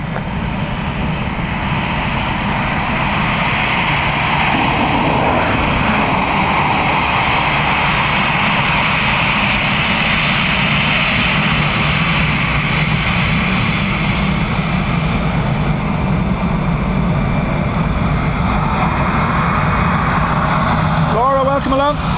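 Airliner landing on runway 28 left at Dublin Airport, a steady loud engine roar that fills the whole stretch, with radio-style voices talking faintly underneath.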